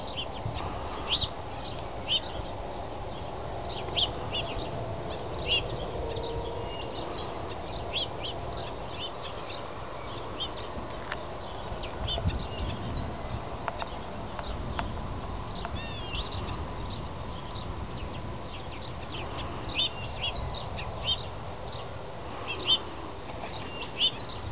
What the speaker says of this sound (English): Pigeons and cockatoos.